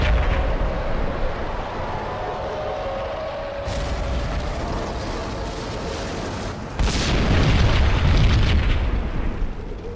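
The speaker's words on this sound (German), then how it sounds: "Eine Bombe explodierte in der Bruchbude nebenan." In the video game Max Payne a bomb goes off in the run-down building next door, a loud, sustained roar with rumble and debris that swells into a second, heavier burst, with no talking.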